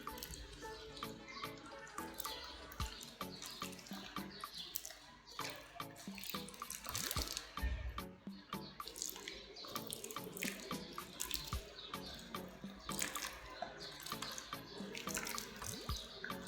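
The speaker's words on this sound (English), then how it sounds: "I put some holes on the top of my water bottle. I'm just gonna water each one." Water trickles from holes poked in the top of a water bottle onto newly planted seeds, a steady close splashing and dripping that runs throughout with small bursts.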